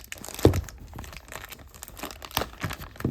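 Plastic wrap packaging sealed with tape being pulled open on a new HO scale model locomotive box, close crinkling and crackling with a few tearing bursts in quick succession.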